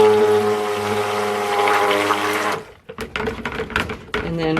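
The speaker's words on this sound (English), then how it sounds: "then I stir it with the stick blender to make sure that it is all evenly distributed in the mix" A stick blender mixes jasmine cold process soap batter with a steady, humming motor whine for a few seconds, then stops, followed by scattered clinks and knocks of stirring in the container.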